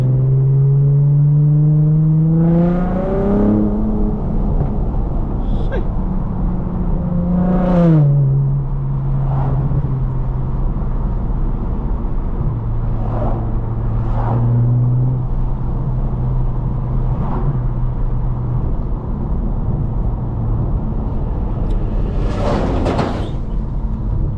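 A 2022 Lexus IS350 accelerates hard on narrow streets, its loud, close engine note climbing in pitch through several rising revs and gear changes, then settling into a steady drone with brief bursts of extra throttle.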